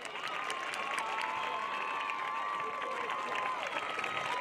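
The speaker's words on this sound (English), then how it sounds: "Let's give Antonio and Olivia a large hand of applause." An audience at a high school homecoming court event applauds for several seconds, a steady dense clapping with some cheering, fairly faint and distant.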